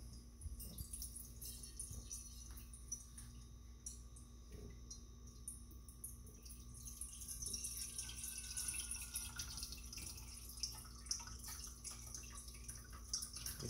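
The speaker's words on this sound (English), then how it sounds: "we're just gonna slowly pour this fat" Rendered deer fat being poured slowly through cheesecloth and a strainer into a bowl, making a faint, steady liquid trickle and dripping against a quiet background.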